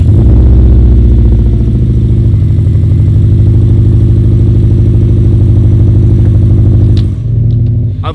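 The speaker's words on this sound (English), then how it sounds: "So let's just start her up." A car engine cranks and settles into a loud, steady running hum close by, holding an even idle for several seconds before a brief dip near the end; no voices.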